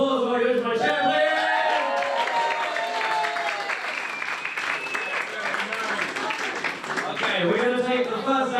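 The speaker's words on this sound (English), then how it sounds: "Can I have a round of applause while I go to my chair" Audience applause at a live comedy show, a steady wash of clapping with some cheering that fills the whole stretch, while a voice talks over it near the start and end.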